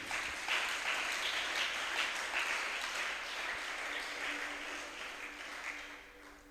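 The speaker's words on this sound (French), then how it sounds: "Acclame le Seigneur Jésus." A church congregation applauding during a sermon, a steady wash of clapping that stays fairly faint and distant throughout and fades slightly toward the end.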